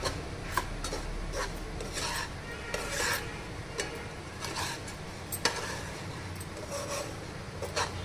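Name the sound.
stirring semolina (rava) while roasting it in a pan for rava laddu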